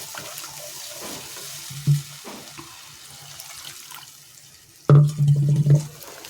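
Water poured into a cooking pan, heard as two short bursts of splashing and gushing over a quiet background, the second longer and louder, with no talk.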